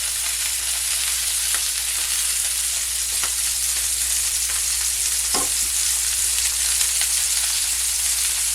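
Steak searing in oil in a pan, a continuous loud, close sizzle with bright hissing and occasional crackles and pops, with no voices.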